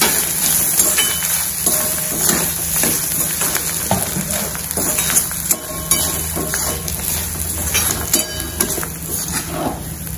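Garlic and coconut sauté in hot oil for pirandai thuvayal, giving a steady close sizzle broken by scraping stirs and light clinks of the pan, with no talking.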